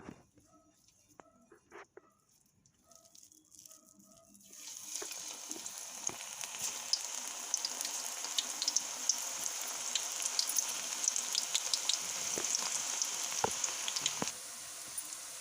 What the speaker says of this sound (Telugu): ఇప్పుడు డీప్ ఫ్రైకి సరిపడా ఆయిల్ పోసి అయిపోయిందండి ఇప్పుడు పకోడీ వేసుకుందాం